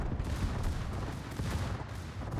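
Secondary guns of the French battlecruiser Marseille fire in a World of Warships match, a dense, rumbling barrage of overlapping gunshots in rapid succession, steady and fairly distant.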